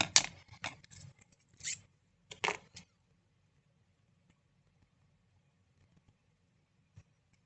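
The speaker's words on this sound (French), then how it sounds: "je vais essayer de me trouver des ciseaux mieux que ça" Better scissors cutting material for a gift box, a quick run of crisp close snips followed by a short pair of cuts, then near silence.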